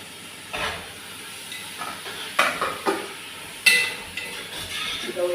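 Prawns frying in hot oil in a pan for a coconut-milk prawn curry, giving a steady close sizzle with a few sharp clatters and stirring knocks at irregular moments.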